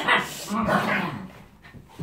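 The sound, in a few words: dogs barking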